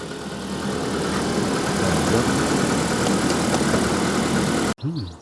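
Proton Wira car with a suspected blown head gasket idling while it warms up after a coolant flush, a steady close engine drone that cuts off abruptly near the end.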